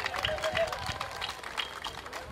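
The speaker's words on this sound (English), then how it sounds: "let's give her a round of applause" Audience applause for a Junior Miss at a Sac and Fox Nation traditional night, a continuous crowd of clapping with cheers mixed in throughout the brief stretch.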